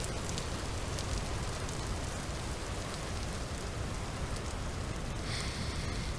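Steady rain falls in the video game Vintage Story, a dense, even hiss of drops on surfaces that continues unbroken and fairly soft, with a slightly brighter patter near the end.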